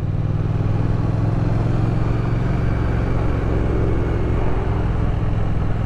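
Triumph Thruxton R motorcycle pulling away, its engine a loud, steady low rumble that holds close and continuous throughout, with rushing road and wind noise over it.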